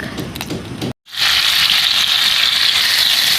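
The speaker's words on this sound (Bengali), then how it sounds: "আমটাকে দেখুন বন্ধুরা আমি ভালো করে ভেজে নিয়েছি" Mango pieces fry in hot oil with nigella seeds for a tangy mango dish, a loud, close, steady sizzle that cuts out briefly near the start and then returns at full strength.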